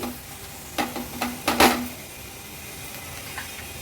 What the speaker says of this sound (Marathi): हळद आणि मसाला तेलावर छान असा परतून घ्यायचा